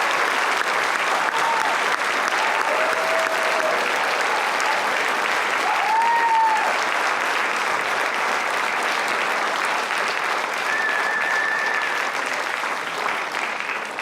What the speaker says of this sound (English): Let's have a final applause for the class of 2019.